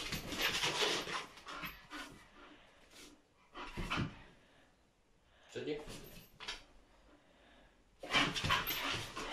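A friendly dog found outside a house pants and whimpers up close in short bursts, with pauses and some rustling between them, while people talk nearby.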